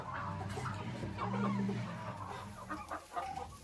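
Chickens clucking inside a coop on fresh clean bedding, a busy flock with a steady mix of near and distant clucks and short calls, with no speech.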